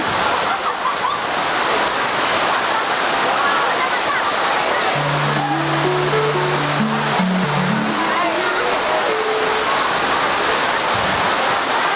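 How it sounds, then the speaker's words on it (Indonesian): Heavy rain pours in a dense, loud, constant roar at an outdoor school language-month event, with a voice briefly singing or calling out over the downpour midway through. "Ya, hujannya semakin deras ya."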